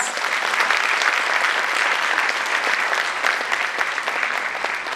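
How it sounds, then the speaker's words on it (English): A large audience at a speaking event gives a big round of applause, loud continuous clapping from many hands, dense and unbroken for the whole stretch, with no talk over it. "I think she deserves a huge round of applause"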